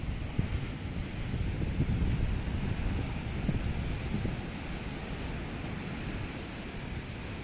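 Waves and wind at Kuta Beach in Bali, a steady low roar of surf mixed with gusty wind buffeting the microphone, continuous and fairly quiet with no voices.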